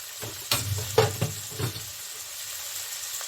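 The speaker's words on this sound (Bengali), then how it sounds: "আমি অল্প জল দিয়ে এটাকে একটু কষিয়ে নিচ্ছি" Ground spices (turmeric and coriander powder) with peas sizzle as they sauté in a pan for an okra and egg curry, with a few sharp crackles and stirring scrapes early on, settling into a soft, steady frying hiss.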